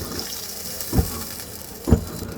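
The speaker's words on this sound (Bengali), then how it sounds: "এখন আমি দিয়ে দেবো ঝোলের জন্য জল" Water is poured into a pan of cooked bottle gourd for the curry sauce: a soft continuous sizzle and trickle with two brief louder splashes of liquid hitting the pan, close by.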